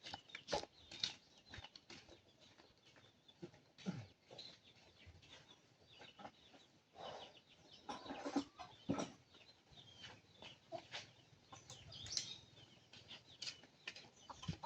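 Chickens cluck in short bursts over several seconds, with a flutter of wings partway through; fairly close but quiet, no talking.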